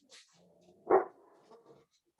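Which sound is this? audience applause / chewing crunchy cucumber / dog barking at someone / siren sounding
dog barking at someone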